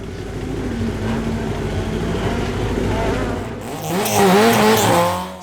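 X-Works Ford Fiesta WRC rally car on a winter series stage at Nutts Corner: a steady engine drone gives way to a rising, wavering tyre squeal as the car slides, with a commentator's voice underneath.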